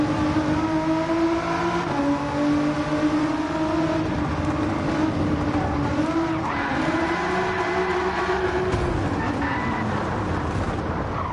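Nissan GT-R R35 lapping a circuit in Gran Turismo 7, a loud continuous engine drone rising and falling in pitch through gear changes and corners, close and unbroken for the whole stretch.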